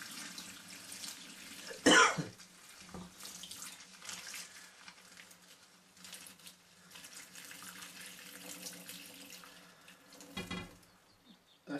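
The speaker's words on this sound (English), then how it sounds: "I'll just drain off as much water as I can." Water drains off stainless steel tumbling media in faint trickles and splashes, with a loud clatter near the start and a cough-like burst later.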